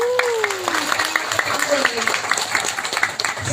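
Applause from a crowd at an Islamic religious gathering, a steady wash of many hands clapping that carries on throughout, with a voice rising over it.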